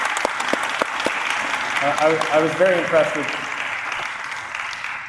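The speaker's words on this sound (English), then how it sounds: "Let's all give them a round of applause." Applause for Jewish students at a gathering, a sustained spread of clapping with scattered sharper claps, while a speaker's voice begins talking over it midway.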